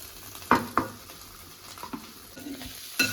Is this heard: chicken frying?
yes